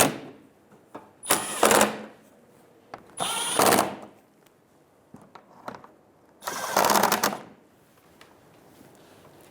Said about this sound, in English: Go around and snug the bolts down.